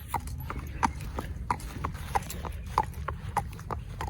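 A horse being led on a halter walks with steady, evenly spaced hoof clops. About ten close, moderately loud steps fall in a regular rhythm over faint background noise.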